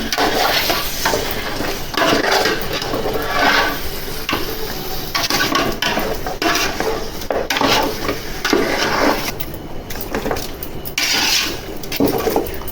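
Mutton biryani mixture is stirred in a pot of oil, the ladle scraping and clanking against the metal continuously over a loud, dense sizzle of frying.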